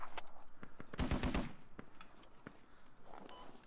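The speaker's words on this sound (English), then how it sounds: "Oh shit, shots." In the military shooter Squad, a short burst of rapid gunfire pops and cracks at moderate distance, with scattered single shots and a soft thud or footstep rhythm around it, fairly faint overall.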